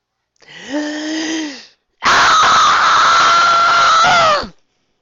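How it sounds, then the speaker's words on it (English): A loud, shrill scream rings out twice, a shorter cry followed by a long, sustained shriek, close and piercing. "a scream came from the direction of the representative's house"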